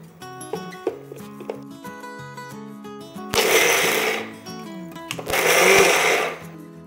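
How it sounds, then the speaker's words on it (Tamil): Mixer grinder jar pulsing sprouted green gram, two loud whirring bursts of about a second each after a quieter stretch with music. "இதை வந்து மிக்சி ஜாரில் போட்டு லைட்டாக பல்ஸ் மோடில் போட்டு அடைச்சி எடுத்துக்குவோம்."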